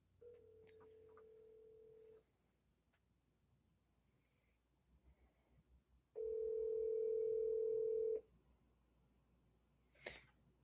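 Ringback tone of an outgoing phone call: two long steady tones separated by a pause, the second much louder, with a brief click near the end and no talk.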